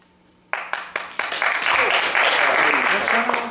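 Applause from a small crowd starts abruptly with a few separate claps, then builds into steady clapping that continues to the end.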